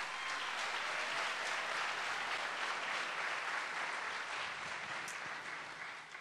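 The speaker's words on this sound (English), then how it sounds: "they get a bigger round of applause" A concert audience gives patients a warm, sustained round of applause, a dense, steady roar of many hands clapping from start to finish before easing slightly at the end.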